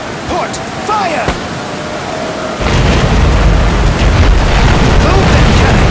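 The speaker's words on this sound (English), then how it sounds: "Fire starboard cannons." Sailing-ship cannons fire in the naval battle game Commander: Conquest of the Americas. A loud broadside booms in and becomes a sustained, heavy rumble, with game voices calling out just before it.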